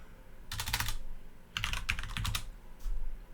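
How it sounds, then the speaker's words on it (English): Bursts of rapid key clatter on a computer keyboard during a programming lecture, two main runs of quick taps separated by a short pause, moderately close with faint room hum and no talking. "Why am I not typing right?"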